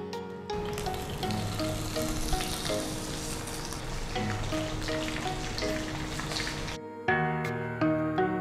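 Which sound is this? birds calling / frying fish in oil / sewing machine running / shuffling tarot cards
frying fish in oil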